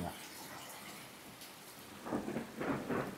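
Heavy rain pouring steadily during a storm, with thunder rumbling and swelling toward the end, a dense, close hiss throughout.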